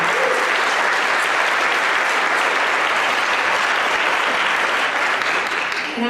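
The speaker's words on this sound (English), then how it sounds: "please give a round of applause" A concert audience at an El Sistema youth orchestra event gives a dense, sustained round of applause, loud and even for the whole stretch before easing slightly at the end.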